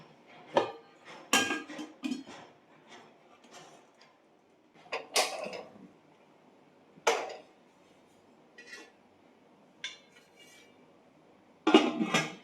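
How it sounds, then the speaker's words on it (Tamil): An idli pot being handled in a home kitchen and set onto a stove, with irregular metallic clanks and knocks, several sharp and close, between quieter gaps. "இதை வந்து அப்படியே நம்ம ஸ்டவ் மேலே வச்சுட்டு வந்துடுறேன்"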